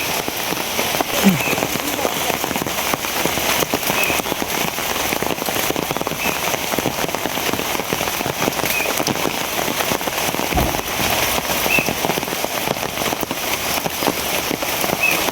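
Heavy rain pours steadily and loudly for the whole stretch, a dense hiss of drops hitting surfaces nearby with no letup.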